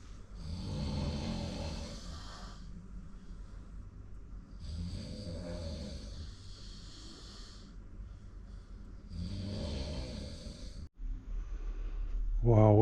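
Heavy snoring from a sleeper in a hostel dorm: three long, rasping snores about four seconds apart, loud and close, with a brief pause and a short voice near the end.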